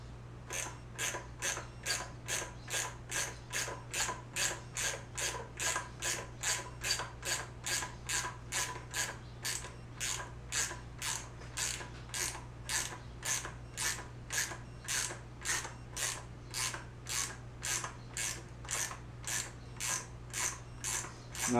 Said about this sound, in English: And now I will grab my wrench, 12mm.